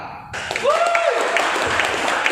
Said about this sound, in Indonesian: beri aplaus ke Bapak Sademaka